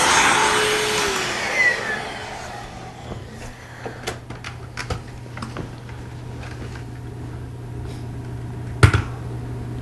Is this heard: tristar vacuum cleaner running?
yes